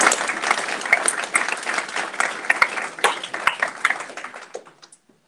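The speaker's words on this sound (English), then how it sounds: "Big round of applause." Sustained applause from a sizable crowd, dense clapping that carries steadily for several seconds before thinning out and stopping.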